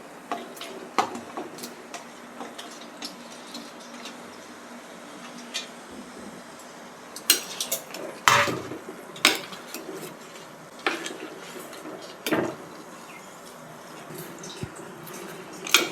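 Mutton goes into a pot with mutton masala and is stirred, heard as scattered utensil clinks and scrapes against the pot, with a few louder knocks over quiet kitchen background.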